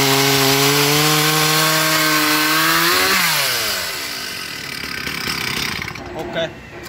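A Stihl 034 chainsaw runs loud and close, its engine note dropping as it bites slowly into dry, very hard wood, then settling into a steady rough cutting drone.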